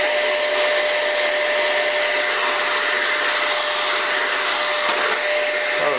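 Vacuum cleaner with a clogged filter running continuously at close range, a steady whining drone with a constant high tone and no voices.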